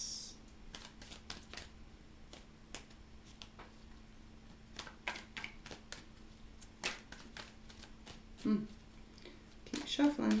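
Tarot cards shuffled by hand: irregular crisp flicks and riffles, close and soft, with a few louder rustles near the end and a voice talking quietly over part of it.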